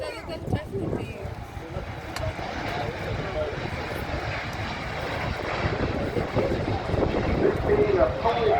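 A Eurofighter Typhoon jet at the Duxford summer airshow produces a steady, broad roar that builds gradually, with a commentator speaking over the engine noise.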